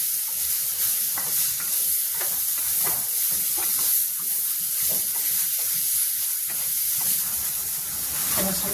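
Onions fry with salt in a hot pan, a steady close hiss and sizzle with rhythmic spatula stirs scraping through it.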